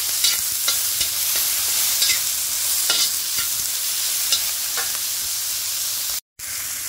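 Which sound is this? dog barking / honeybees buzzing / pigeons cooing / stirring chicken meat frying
stirring chicken meat frying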